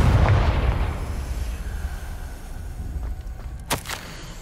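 A Confringo spell blast goes off in the Hogwarts Legacy video game, a loud booming burst that decays into a rumbling tail, followed by a few fainter pops and thuds.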